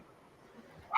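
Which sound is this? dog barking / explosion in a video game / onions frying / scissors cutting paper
dog barking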